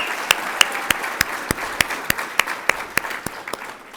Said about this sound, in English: Give a round of applause to all those.